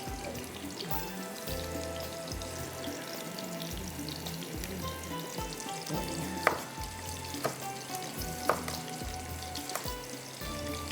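Onions frying in a pan until brown, a continuous close sizzle with a rhythmic low thumping underneath and occasional sharp clinks of utensils, no voices.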